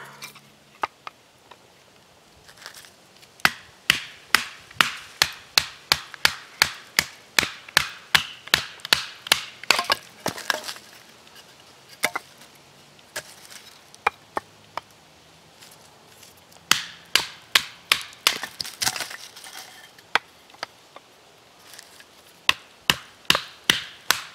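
Repeated sharp knocks of batoning poplar wood with a Deer Creek Forge Kephart knife, loud close strikes in irregular bursts with brief pauses and a few cracking splits, no talking.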